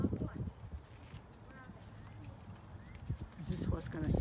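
Horse hooves clip-clopping close by in short uneven bursts, with people talking over them.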